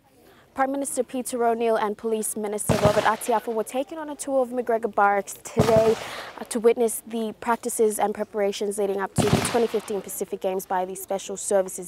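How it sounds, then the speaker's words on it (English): Gunfire from police and defence force Special Services training at McGregor Barracks ahead of the 2015 Pacific Games, a few loud, sharp broadband bursts spaced several seconds apart beneath a continuous news reporter's voice. "as you can hear the gunshots behind me."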